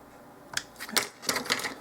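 Scissors make a few short, crisp snips through paper in quick succession, close by and fairly quiet, with brief pauses between cuts.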